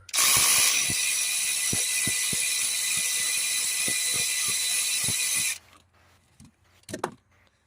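A ratchet with a short socket clicks steadily while turning on the engine of a Ford Transit Custom during a glow plug and wiring harness repair, producing loud, close, rapid pawl clicks for several seconds before stopping, followed by a few faint knocks.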